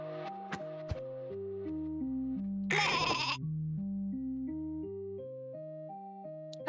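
A video game sheep bleating in a short run of cartoonish electronic tones that step up and down, with a brief burst of bright noise midway and small clicks, fairly soft.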